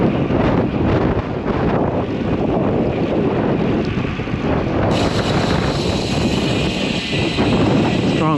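Strong gusty wind buffets the microphone while riding a bicycle on a roadside sidewalk, a loud continuous roaring rush that persists throughout with no talk.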